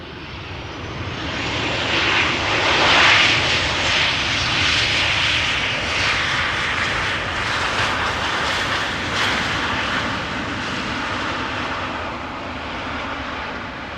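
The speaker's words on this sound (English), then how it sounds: "Little wheelie and a little bit of reversing. Reverse thrust, I should say." A KLM Boeing 737 arriving from Paris touching down at Amsterdam Schiphol, its engines roaring loudly under reverse thrust then slowly fading into a broad, steady rumble, heard from outdoors with no voices.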